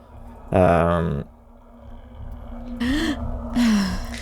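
Female character in the video game Thief 2 gasping as she climbs over things: a strong breathy gasp, then two shorter softer breaths later on, over a low steady game hum.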